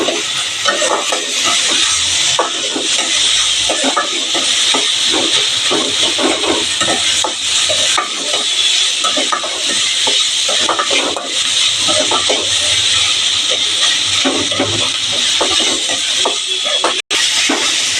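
Onions fry in a hot pan, a loud, steady sizzling hiss that runs throughout with faint stirring scrapes, close and continuous, with no talk over it.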